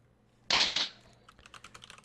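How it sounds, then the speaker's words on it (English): Quick clatter of keys on a computer keyboard during a Smite game talk show, a loud burst of keystrokes followed by a lighter, evenly spaced run of taps, close to the mic with no talking. "Oh, Blake's typing to me."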